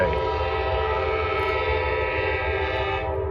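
A Norfolk Southern train hauled by C6M locomotives sounds a long, loud multi-tone horn chord held steadily over the rumble of the engines before it cuts off near the end.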